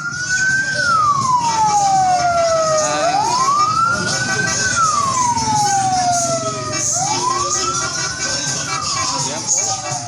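An ambulance siren wails near the front of an outdoor political motorcade, sweeping up and down in long repeated cycles over a busy crowd and traffic background.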